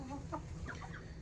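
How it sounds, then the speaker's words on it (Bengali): Sonali breed hens and roosters kept for eggs cluck softly in a brief, faint burst of a few low calls over a steady background hum. "এখানে দুটো মোরগ আছে"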